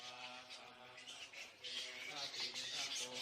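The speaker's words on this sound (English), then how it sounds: "During the day, they hang out by roosting in trees, wings wrapped around their body, squabbling noisily and fanning themselves when hot." Hundreds of large flying fox bats roost in big trees at a Southeast Asian temple, squabbling in a dense, continuous chorus of shrill chattering and squeaks that rises and falls.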